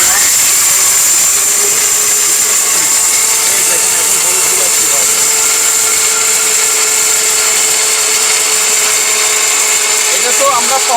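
A 1400-watt heavy-duty commercial mixer grinder powdering dry ingredients, running as a loud, steady high-pitched whine with a constant motor drone throughout and no pauses.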